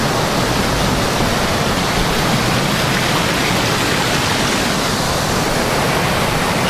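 Cascata Pedra da Ferida, a waterfall in a wet, overgrown spot after heavy rain, pours with a constant loud broadband rush of falling water, steady and unbroken throughout.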